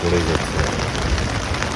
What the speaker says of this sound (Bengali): আর বৃষ্টি তো পড়েই যাচ্ছে